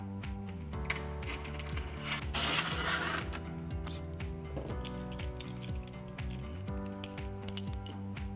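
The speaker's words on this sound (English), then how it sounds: "Slide your clamp through the channel." A clamp sliding through the rail channel of a LEER SR250 tonneau cover, heard as clicking, ratcheting metal-on-metal scrapes and taps with a brief rougher scrape partway through, close up and without talk.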